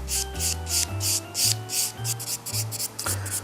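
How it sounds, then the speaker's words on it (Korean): A nail file rasps across a natural fingernail surface in one direction during basic manicure care, giving a close, soft series of about ten evenly paced scratching strokes over a faint low hum. "자연 네일은 비비지 마시고 한 방향으로 표면 샌딩 작업 들어가시면 됩니다"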